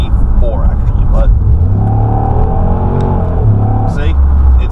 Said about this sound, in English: I'm going to hit the gas.